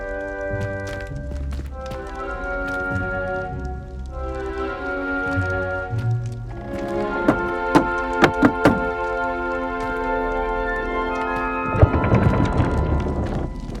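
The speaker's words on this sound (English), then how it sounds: "You must tap the barrel, 2 from the bottom, middle of the second row, in the rhythm of Helga Hufflepuff" Rhythmic knocks on the Hufflepuff barrel in a Hogwarts video game, a series of wooden taps in a patterned cadence over a soft tonal music bed, a few sharper hits standing out.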